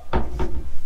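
A soft-closing drawer in a single-story Las Vegas pool home is pushed shut twice, two close, muffled wooden thuds a short moment apart, with no talk.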